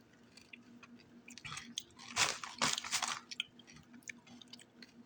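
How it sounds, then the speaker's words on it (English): Crunchy jalapeno snack being bitten and chewed close up, several loud crisp crunches clustered in the middle amid quieter moist chewing, with no talking. "we definitely taste the jalapeno for sure"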